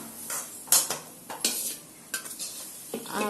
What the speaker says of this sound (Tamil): இதை வந்து நம்ம ஒரு பாத்திரத்துக்கு நம்ம வந்து ட்ரான்ஸ்ஃபர் பண்ணிக்கலாம்